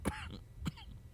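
Two short, soft coughs close by, spaced about half a second apart, over a quiet room hum.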